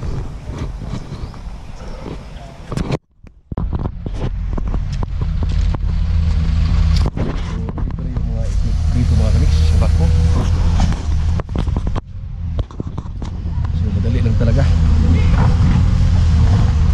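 A Sinotruk dump truck rumbles past near a riverside gravel stockpile, its loud, heavy diesel drone swelling and persisting with clunks and knocks, while a person talks over it.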